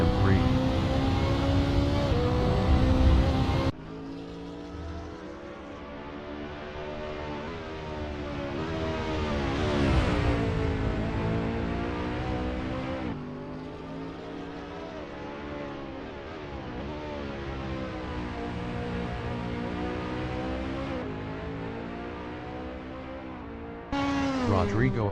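A BMW M3 GT race car engine in the Assetto Corsa racing game, GT2/GT3 series, at Imola. A steady, droning exhaust note swells and falls with revs, with sharp gear-change breaks near the start and the end.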